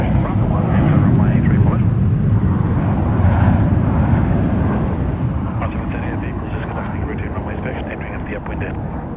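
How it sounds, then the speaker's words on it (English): A Cathay Pacific Boeing 747-8 in retro 80th-anniversary livery at Sydney Airport, its engines roaring loud and broad as it passes on a sunny day, the rumble easing slightly toward the end. "So nice to be able to see the aircraft here today on a sunny day."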